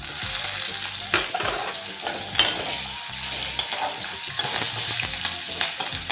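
Curry leaves frying in hot oil for lemon rice crackle and sizzle continuously, with occasional louder pops and stirring scrapes and no talking.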